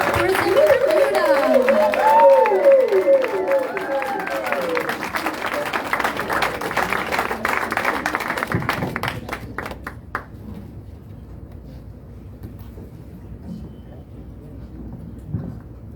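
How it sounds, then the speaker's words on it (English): A live audience at a presentation night gives loud applause with cheering and whoops. It thins out after about eight seconds and gives way to scattered claps and a quiet room. "we're gonna give a big, warm round of applause to Clare Dominguez."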